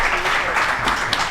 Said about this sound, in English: Give the Abbotts a round of applause.